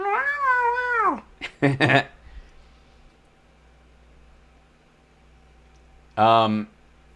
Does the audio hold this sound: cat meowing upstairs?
yes